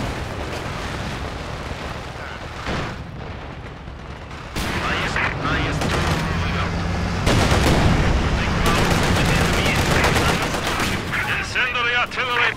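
An incendiary artillery barrage in the Company of Heroes 2 strategy game, with rapid bursts of gunfire, booming shell impacts and crackling explosions layered densely, loud and continuous, intensifying midway, with brief voice lines in between.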